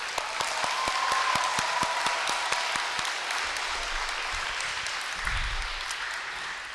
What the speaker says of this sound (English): Can we have one more round of applause for our veterans?